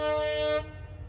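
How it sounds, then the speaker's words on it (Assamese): One loud, sustained train horn blast blares for about half a second in Mariani town, then cuts off abruptly, leaving a low rumbling background. "আৰু এবাৰ হৰ্ণ মাৰিছে চাওক"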